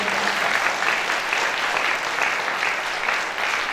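A church congregation at a Sunday healing and deliverance service claps to welcome a pastor, a loud, dense, continuous round of applause lasting the whole stretch.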